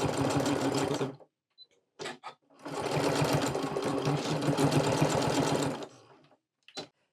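A sewing machine stitches a fabric tag closed, running in two long steady bursts with brief short runs between, close and loud, with no talk.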